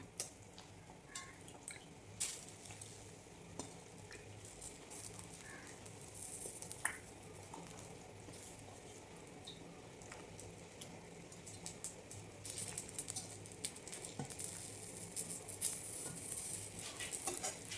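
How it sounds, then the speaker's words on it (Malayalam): Pieces of shark fish dropped into a pot of boiling curry and stirred, faint low bubbling with soft drips, small splashes and occasional scraping, steady and quiet throughout. "ഇവിടെ കറി ഇവിടെ തിളച്ച് വന്നിട്ടുണ്ട് നമുക്കിതിലേക്ക് മീൻ കഷ്ണങ്ങൾ ഇട്ട് കൊടുക്കാം"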